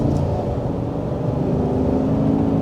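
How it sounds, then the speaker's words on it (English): From inside the cab of a 2025 GMC Sierra 1500 SLT pickup, the exhaust drones low and steady, swelling slightly as the engine revs gently. "give you as best of a sampling as I could of the exhaust note from the interior here"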